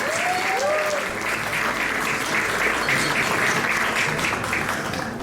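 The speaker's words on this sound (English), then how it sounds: "Keep it going, keep it going. Keep the clap going." A crowd applauds continuously at the annual Bradford Curry Awards, dense clapping sustained throughout at an even level, with a short whistle near the start.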